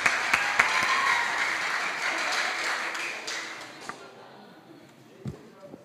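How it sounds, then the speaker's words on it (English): A fine dining event audience at a hybrid webinar gives a round of applause. Scattered claps start fairly loud and fade away over several seconds, leaving a few isolated taps. "A round of applause."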